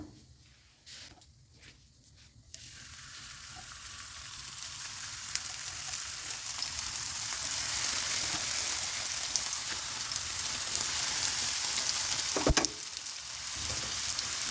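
Buñuelos fry in hot oil in a pan with a loud, continuous sizzle that starts with a few broken bursts and then builds into a steady crackling hiss, broken by a brief clatter near the end.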